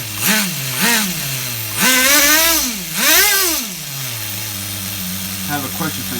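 A small nitro engine in an HPI RS4 Nitro F150 RC truck, up close on a bench, buzzes loudly as it is tuned. It blips in four sharp revs with high whining rises and falls, then settles into a steady idle.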